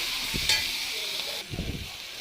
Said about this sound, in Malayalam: കുറച്ച് കറി ലീവ്സ് ഇട്ടിട്ട് നന്നായിട്ട് വഴറ്റി കൊടുക്കാം